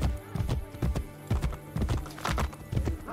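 In Assassin's Creed Brotherhood, a galloping horse pounds out rapid, rhythmic hoofbeats up close, steady and loud throughout.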